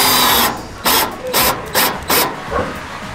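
Screws driven into steel roof purlins give a close, loud run of rhythmic grinding bursts, about five in quick succession, with no talk.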